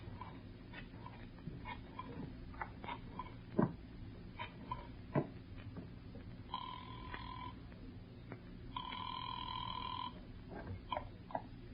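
An old-style telephone rings twice in a 1950 radio detective drama, each ring a long electronic trill, fairly faint amid scattered clicks and low background noise.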